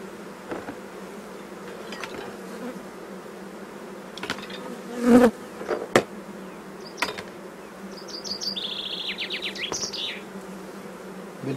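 Honey bees buzz around the entrances of spring beehives during a hive inspection, a continuous close drone with scattered clicks and knocks and a few brief louder passes.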